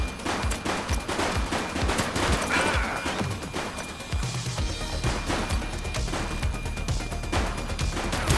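Gunfire erupts in the police video game The Precinct: rapid bursts of automatic shots and single cracks, loud and close, packed densely over several seconds, mixed with crashing impacts.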